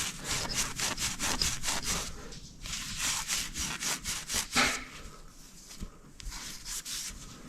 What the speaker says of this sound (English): I'm just going to clean it up with this Scotch-Brite